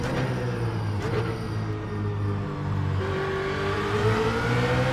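A BMW Z4 GT3 engine in iRacing holds a steady high rev, with a strained, whining drone and faint shifts in pitch, loud and continuous, with no talking.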